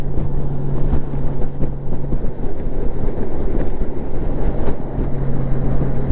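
Honda Gold Wing DCT motorcycle cruising in sixth gear at 65 mph and about 3,000 RPM, a steady loud engine hum blended with road and wind roar, continuous throughout with no talk.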